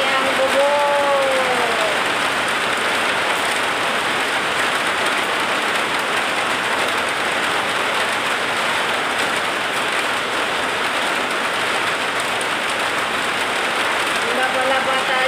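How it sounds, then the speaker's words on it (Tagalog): Heavy rain drums steadily on a noisy roof, a dense, loud hiss that continues without a break for the whole stretch, with faint tonal chirps near the start and end. "Malakas ang ulan. Ako, ang ingay ng bubong."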